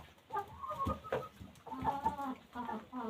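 Domestic hens clucking close by in a Ukrainian farmyard coop, a string of short, irregular cackles and throaty calls, fairly quiet, with no talk over them.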